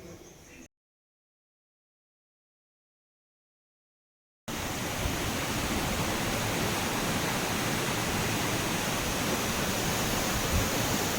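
Ganga river water flowing below a bridge at Manikaran, a steady broadband roar of rushing water, loud and unbroken for several seconds after a brief snippet and a stretch of silence.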